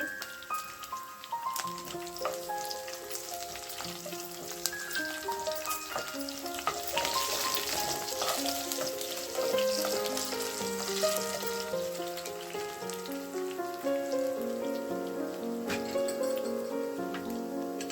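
Chopped garlic and green chillies fry in ghee in a pan for dal khichdi, a soft steady sizzle running throughout beneath a melodic music bed, with no talk.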